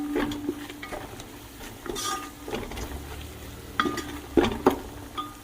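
A spoon scrapes and knocks intermittently against a pan while biryani masala powder is stirred into a cooking mixture, with soft clinks and light sizzling, close and fairly quiet.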